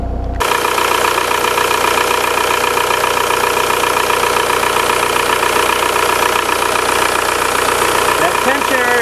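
A VW Jetta TDI diesel engine idles steadily with its belt running on a declutched alternator pulley, a close, loud, even clatter that holds unchanged throughout after a brief start.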